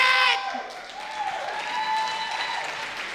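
A crowd at a justice rally and mass meeting in Georgetown, Kentucky breaks into sustained applause, a dense wash of clapping filling the room after a brief shout.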